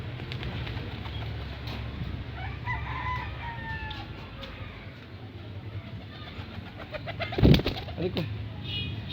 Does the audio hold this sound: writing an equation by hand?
no